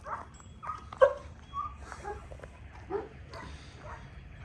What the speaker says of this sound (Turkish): Güzel bir köpek.